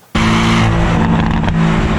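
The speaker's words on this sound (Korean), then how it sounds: "제가 가장 중요하게 생각했던 거는 배기 사운드였어요" Porsche 718 Boxster exhaust roars in loudly after a brief quiet start, holding a steady, deep, close-up drone with slight fluctuations and no talking.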